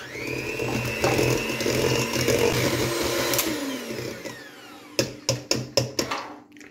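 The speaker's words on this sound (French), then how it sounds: "moi je vais continuer le mélange au batteur électrique" An electric hand mixer whirs steadily through batter for a French home cook, moderately loud and continuous, then shuts off and gives way to several sharp taps of the beaters against the bowl.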